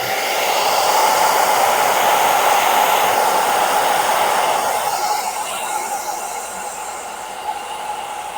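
A heat gun blows a steady, loud, continuous rush of hot air onto vinyl overlay film on a Toyota 4Runner tail light, easing slightly toward the end, with no talking.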